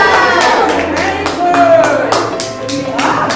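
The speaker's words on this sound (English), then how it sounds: "Big round of applause for our Rajan sir." Audience applause for Rajan sir at a St. Stephen's School winter carnival: sparse, fairly regular handclaps sound close, with voices and other sound beneath them.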